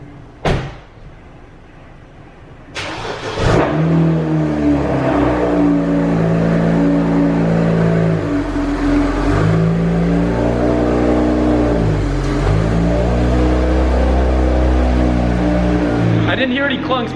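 A 600-horsepower Ford Mustang on a cold start rolls out of a garage, its engine holding a deep, steady, close rumble with slight rises in revs, after a few sharp knocks and a door-like clatter at the start.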